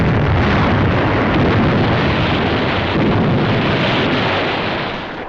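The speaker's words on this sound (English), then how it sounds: "the heavy guns of the French battleship Jean Bart and several cruisers, destroyers, and gunboats put out a devastating fire" Heavy naval gunfire from the French battleship Jean Bart with cruisers, destroyers and gunboats during the 1944 Tunisian campaign, a loud, continuous rumbling roar of blasts with no voices.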